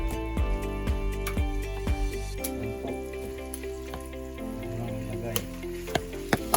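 Yakitori chicken sizzles steadily in melted butter in a pan, with a continuous frying hiss, scattered clicks and scraping stirs, while a voice talks over it.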